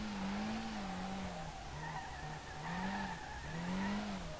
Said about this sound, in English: Yeah, it's a first gear drift here.